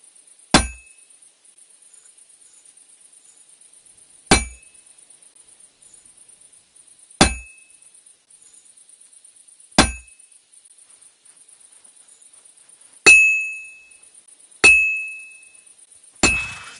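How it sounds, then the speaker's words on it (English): Metal hammering at a blacksmith's forge in Kingdom Come: Deliverance II: seven sharp, ringing clangs spaced a few seconds apart, the last ones louder with a longer metallic ring, over near silence. "have to hammer it more evenly"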